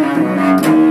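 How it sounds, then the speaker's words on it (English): Brief, close bowed cello note, a deep sustained tone held under a second with a slight change near the end, played alone. "It's called a cello."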